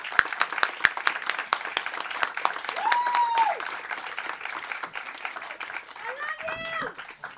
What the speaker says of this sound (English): Please, let's get it clapping for Miss Anita Wise.